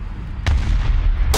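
Heavy tank cannon fire in War Thunder ground battles: two loud, booming blasts about a second apart, each with a sharp crack and a rumbling tail, heard close with no talk.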